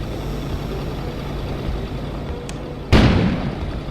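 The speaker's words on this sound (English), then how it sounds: "An explosion suddenly occurred outside." A sudden explosion goes off outside in the video game Kona, a sharp loud boom breaking over a low steady rumbling ambience near the end.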